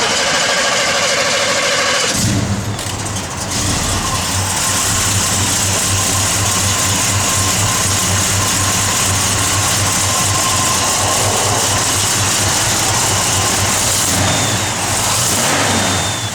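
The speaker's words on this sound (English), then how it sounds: "Good running big block." A big-block V8 in a 1957 Chevrolet Bel Air starts up and settles into a loud, steady, rumbling idle, with a throaty low-end burble continuing throughout.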